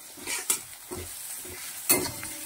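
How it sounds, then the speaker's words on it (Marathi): Cut potatoes are sautéed in a pan, a soft sizzle under repeated scraping stirs and a couple of sharp clinks of the utensil against the pan, heard up close. "परतल्यानंतर सुरुवातीला आपल्याला कट केलेलं हे बटाटा घालायचं आहे। ते परतून घ्यायचं आहे।"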